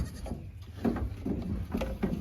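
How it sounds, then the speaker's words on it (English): A goat with a bucket stuck on its head bleats on a farm, a few short muffled calls spread across the moment with faint background noise. "Here we have a goat with a bucket on his head."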